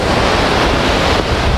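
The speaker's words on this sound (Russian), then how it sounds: "Вот вы видите, вода падает с уступа." The Tosno waterfall, water pouring over a limestone ledge, gives a loud, continuous broadband rush close by, steady and unbroken, with no voices.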